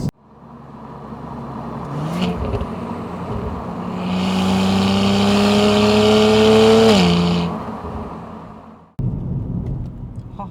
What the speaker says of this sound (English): I'm very curious to see what the exhaust sounds like.